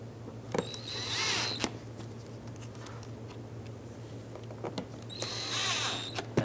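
A power drill drives T20 screws into the bumper cover of a 2013-2020 Nissan Pathfinder: two short whirring bursts near the start and end, close by, with quieter handling noise between them over a steady low hum.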